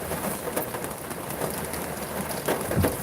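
Heavy rain falls outside a car waiting in line for an emissions inspection, a dense, steady hiss with scattered patters and drips, and no voices.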